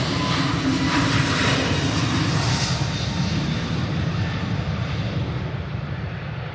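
A jet airliner's engines roar steadily at full takeoff power as it rotates off the runway at Manchester Airport on a windy day, a continuous loud broadband rumble with gusty noise throughout.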